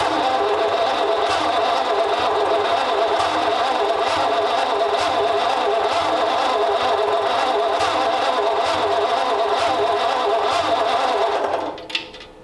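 The replacement engine in a 1934 Ford Coupe runs loud and steady with an even mechanical rhythm, then cuts off abruptly near the end.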